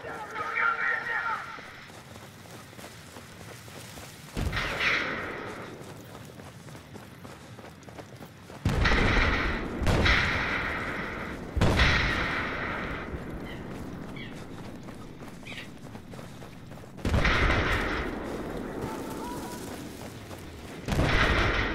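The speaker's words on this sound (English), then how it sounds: "I think one of our teammates set one down, another mortar down, and they're firing back" Mortar fire in the Battlefield video game, several sharp booming blasts spaced seconds apart, each trailing into a rumbling decay, with quieter gaps between them.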